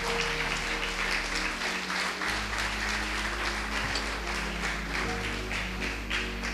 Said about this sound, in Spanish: gracias, hermano, por los aplausos